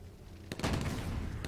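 Sudden bursts of gunfire crack out in a quick cluster, followed by a sustained rumbling blast, sharp and fairly close, from the World War II strategy game Blitzkrieg.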